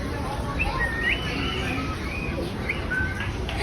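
Small parakeets at Surat zoo give thin, rising chirps and whistled calls, several short notes scattered over a steady background hum of the enclosure, fairly close and clear.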